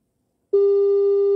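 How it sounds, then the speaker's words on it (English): A steady telephone ringback tone on an outgoing call starts abruptly after a moment of silence and holds as one continuous loud pure tone, close and clear, with no voices. "I don't know if I have your number here. Okay, it's ringing."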